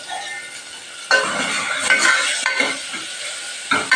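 Onion and tomato frying in a pan, with bursts of sizzling and stirring scrapes of a utensil against the pan, close and fairly loud, coming in uneven surges.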